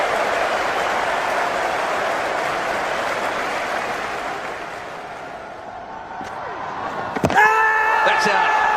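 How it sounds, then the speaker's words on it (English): Cricket crowd at an England vs Australia Ashes Test match in 2005 roars in a broad, sustained cheer that swells and then eases, with a sharp crack and brief ringing tones near the end. "Listen to the cheer."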